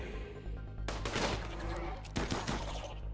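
Gunfire from colonists shooting enemies in Rimworld, a burst of dense crackling shots followed by a second cluster, close and fairly loud over a constant low hum.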